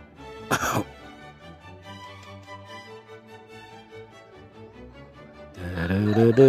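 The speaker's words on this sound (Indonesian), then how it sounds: "paling sesekali batuk" Throat-clearing cough bursts from a person painting a fighting rooster: one sharp cough near the start, then a louder rough cluster of coughs at the end over quiet background.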